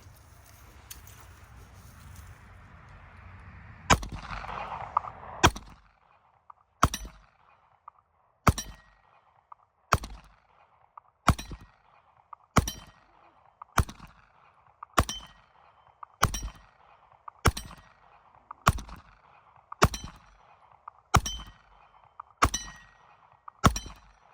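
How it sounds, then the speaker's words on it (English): Stock Glock 19X pistol firing about fifteen sharp shots in a steady, evenly spaced rhythm, each a loud crack with a ringing tail, after a few seconds of quieter background. "19Xs are very, very, very common EDC carry guns. So we're gonna get some shots with this."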